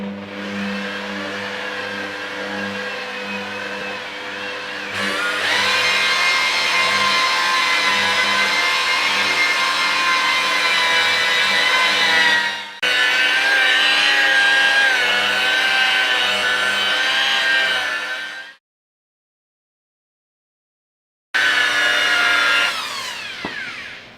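Steady high-pitched whir of a machine polisher working Meguiar's 205 compound with a green Hex Logic foam pad on Subaru WRX paint, running continuously with slight pitch shifts, briefly stopping, then resuming close up without any talk.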